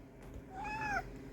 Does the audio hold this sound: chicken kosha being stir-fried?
no